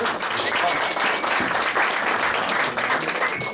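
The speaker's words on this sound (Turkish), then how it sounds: "Tabii ki bir alkış isterim" Steady audience applause at an award ceremony, a dense even wash of many hands clapping close by for a few seconds without letup.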